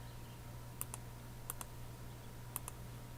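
A computer mouse clicking while someone works in Silhouette Studio: three quiet double clicks, evenly spaced and close, over a faint steady hum.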